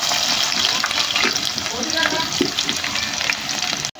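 Chopped onions sizzle loudly in hot oil with dried red chillies, mustard seeds and cumin while cooking greens, a continuous crackling fry with occasional stirring scrapes.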